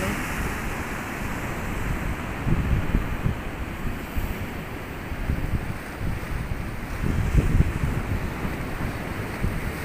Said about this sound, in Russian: Такие волны.